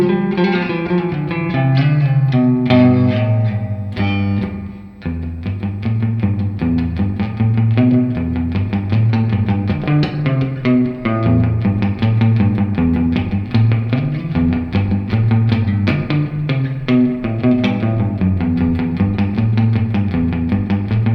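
A Fender Tre-verb guitar amp set to its '65 Deluxe Reverb mode carries a steady, loud electric guitar passage of strummed chords and picked notes, playing on without pause and with no talking.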